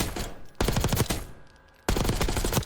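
Rapid automatic gunfire from a gun in Call of Duty Black Ops 6 comes in two dense, close bursts of quick shots, broken by a short pause with a quieter tail between them.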